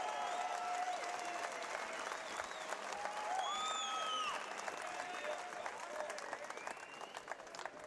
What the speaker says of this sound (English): can we get another big round of applause for these warriors?